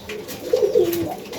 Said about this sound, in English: Nice bird, young bird.